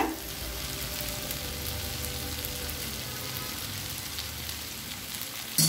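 Chopped chapathi pieces sauté in a pan with chilli powder for egg kothu chapathi, giving a steady, close frying sizzle throughout with a sharp clink at the end and no talking.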